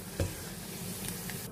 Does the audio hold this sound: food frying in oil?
yes